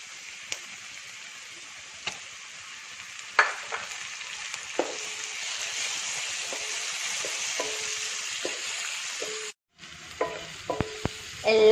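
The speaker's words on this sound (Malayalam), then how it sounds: "പച്ചമുളക് ഇട്ട് കൊടുക്കുന്നു. തക്കാളി ഇട്ട് കൊടുക്കുന്നു." Green chillies and tomato stir-fry in a hot pan for a prawn roast, a steady close sizzle broken by the occasional scrape and clack of a spatula, with no talking.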